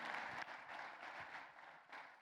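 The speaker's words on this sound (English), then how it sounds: "Ladies and gentlemen, a big round of applause." Dinner guests applaud at an airline CEO event, a fairly faint but continuous patter of many hands clapping for a couple of seconds.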